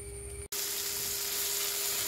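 Tomatoes sauté in a pan with a little hot water for a prawns roast, giving a steady, even sizzle that cuts out for a split second near the start, then carries on without talk.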